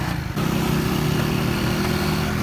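A broken motorcycle's engine drones steadily while being ridden, a loud, continuous low rumble with wind noise close to the rider, holding a constant pitch throughout.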